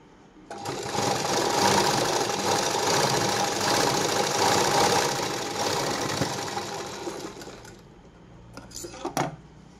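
A sewing machine stitches the front panel of a princess blouse in one sustained, fast, close mechanical whir, then stops, followed by a few brief handling clicks and rustles of fabric.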